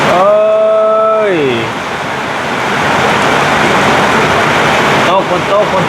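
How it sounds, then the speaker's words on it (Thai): Steady, dense rain hisses continuously, a loud, unbroken wash of falling water that starts just after a short gliding tonal sound and carries on to the end. "ฝนตก"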